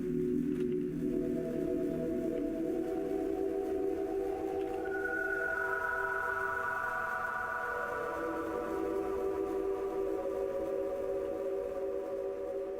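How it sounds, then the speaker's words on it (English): Slowly evolving synthesizer pad patch from a sound pack, with sustained layered tones that shift and brighten midway, played alone at a steady, full level. "We've got some really nice pads."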